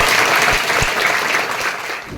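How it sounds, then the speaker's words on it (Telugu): A seated audience at a meditation session claps loudly together, a dense, sustained burst of applause that tapers slightly at the end. "అందరు కూడా ఒకసారి గట్టిగా క్లాప్స్ కొట్టండి."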